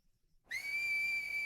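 A character in the Attack on Titan anime whistles for a horse in a forest of giant trees: a single sustained, clear high whistle that starts abruptly after a brief silence and holds steady.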